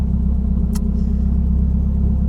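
A Nissan 200SX engine turning over in its first revolutions at startup with a slight abnormal noise, giving a steady low rumble with a brief higher tick partway through.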